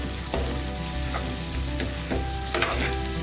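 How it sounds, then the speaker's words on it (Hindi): Fried basa fish pieces are stirred into chilli sauce in a pan, giving a steady close sizzle broken by a few scraping strokes of the spatula, with no talking. "इस टाइम पे मैंने जो फ्राई किया था सारे फिशेस मैं इसमें डाल दूंगी और इसको मैं अच्छे से थोड़ा सा इसके साथ मिला दूंगी"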